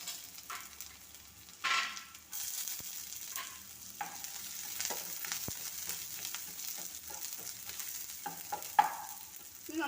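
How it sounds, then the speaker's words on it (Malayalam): Mustard seeds spluttering in hot oil over a high flame, a low continuous sizzle scattered with small crackles and pops and a couple of louder bursts, close by and with no voices. "ഈ എണ്ണയിലേക്ക് കടുക് ഇട്ട് കൊടുക്കാം. അപ്പോൾ കടുക് പൊട്ടി വരുമ്പോഴത്തേക്ക്"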